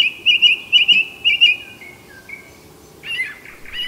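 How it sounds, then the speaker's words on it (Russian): A song thrush sings at night in a village setting, giving short, bright repeated phrases that sound close and clear. A second bird, a nightingale, joins near the end with a burst of rich notes. "Как пример, этот певчий дрозд и соловей, поющий за кадром."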